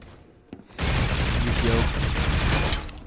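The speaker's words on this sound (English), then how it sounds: "Yukio taking some shots, quickly reloading." Sustained heavy gunfire from a competitive shooter video game match, a dense continuous volley lasting a couple of seconds after a brief quieter lead-in.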